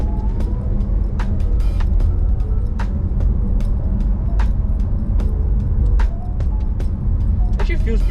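Porsche 911 GT3 accelerating out of turn 9 on a track, a steady loud engine drone with road rumble and scattered clicks heard from inside the cabin, no talk over it.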